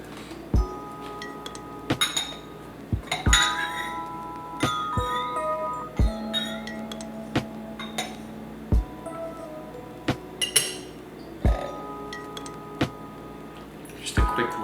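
Ceramic gaiwan teaware rinsed and warmed with hot water, giving repeated light clinks and taps of porcelain lids and cups, close and sparse, mixed with soft trickling and small handling noises.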